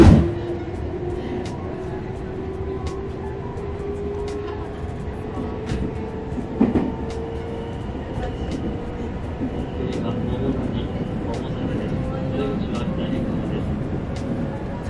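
Osaka Loop Line train heard from inside a moving carriage, with a steady low rumble and a rising motor whine, scattered clicks and rattles, and someone talking over the ride.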